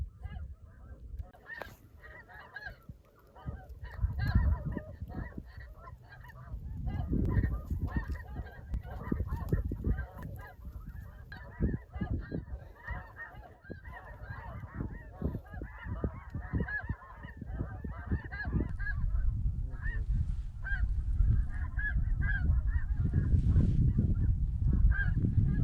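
A large flock of snow geese honks constantly over a southwest Iowa field during a spring hunt. The calls are dense and overlapping, some close and loud and others farther off, building into a swelling chorus.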